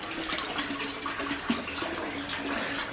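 Water runs steadily into a tank inside a farm dairy building, a close, continuous gurgling splash with small bubbling fluctuations and one brief louder splash midway.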